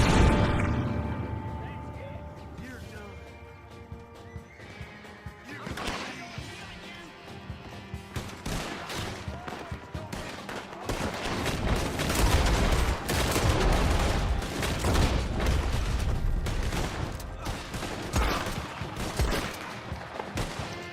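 Cannon fire and gunshots in the Red Dead Online video game: repeated volleys of shots and heavy booms crackle loud and dense, thickening into a sustained barrage in the second half.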